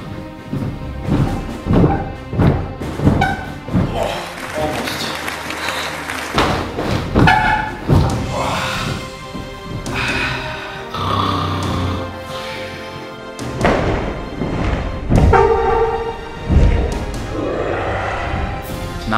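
A person repeatedly bounces on a bed while attempting a 360 spin trick, giving loud, irregular thuds and thumps over about twenty seconds, with busy background sound throughout.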